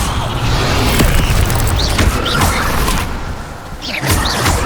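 Fire spell cast again and again in Hogwarts Legacy, a loud game mix of booming bursts, whooshes and rattling mechanical clatter that keeps up the whole time with no pauses.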